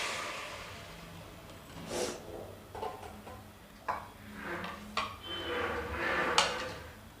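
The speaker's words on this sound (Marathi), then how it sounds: "कढई गरम झालेली आहे, प्रथम आपण हे लिंब घालूया।" Lemon pieces tipped into a hot kadhai for pickle give a series of soft, scattered clinks and knocks against the metal pan, quiet and close, with no talking.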